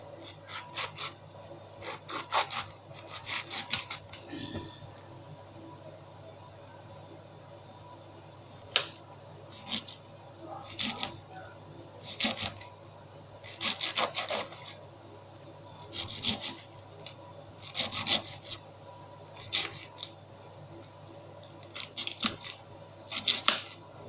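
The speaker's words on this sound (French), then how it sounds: "Maintenant, je vais couper du chou." A kitchen knife slicing cabbage for a Polish łazanki dish, with repeated crisp crunching cuts in irregular bursts over a faint background hum, close and fairly loud.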